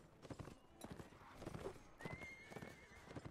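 A horse in Mount and Blade Warband clops along with quick, close hoofbeats and lets out a high whinny midway, heard alone without talk.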